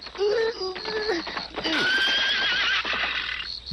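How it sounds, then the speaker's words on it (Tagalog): A horse neighs loudly and up close, a long shrill whinny that wavers in pitch, followed by snorting and a second drawn-out call. "Parang halinghing ni Kidlat yung narinig ko, hindi ba, Oscar?"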